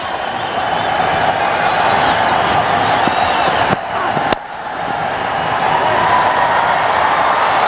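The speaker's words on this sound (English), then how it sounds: "Listen to the crowd." A packed cricket stadium crowd at the India vs Australia one-day international in Hyderabad roars for Tendulkar, a loud, sustained wall of cheering with a brief dip near the middle before it surges back.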